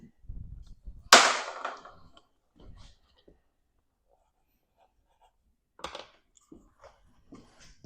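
A shot from an AR Tactical 8g .679-bore marker measured for joules: one sharp close crack followed by a short decaying tail, with scattered faint clicks and handling noise and brief bits of quiet talk around it.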